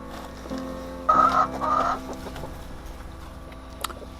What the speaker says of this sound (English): You can hear how enthusiastic and excited our chickens are.